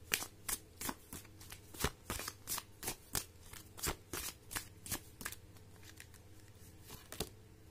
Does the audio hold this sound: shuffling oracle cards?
yes